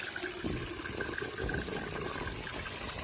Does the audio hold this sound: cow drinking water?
yes